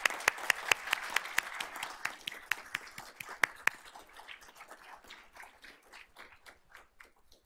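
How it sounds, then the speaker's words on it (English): An audience at a school board of trustees meeting applauds a student band group, sharp individual claps standing out over a dense patter that thins and fades toward the end, with no talking. "Let's give this group a round of applause."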